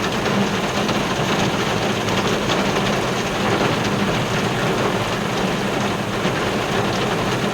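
Heavy rain pours down in a steady, dense roar that fills the whole stretch without pause, loud and close, with no voices over it.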